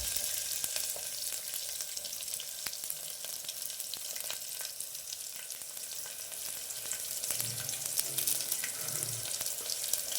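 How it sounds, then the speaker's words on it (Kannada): Mustard seeds, curry leaves and onion fry in oil with a constant hissing sizzle and scattered sharp pops, plus a few low stirring thumps toward the end; no one talks. "ಸಾಸಿವೆ ಸೇರಿಸ್ಕೊತಾ ಇದ್ದೀನಿ, ಕರಿಬೇವು, ಈರುಳ್ಳಿ, ಆಯಿಲಲ್ಲಿ ಚೆನ್ನಾಗಿ ಫ್ರೈ ಆಗಬೇಕು"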